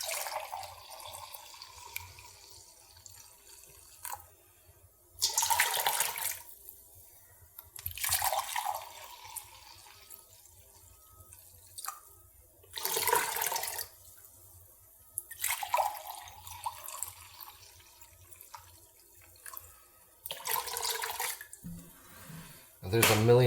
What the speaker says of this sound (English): I'm going to add 6 cups of vinegar.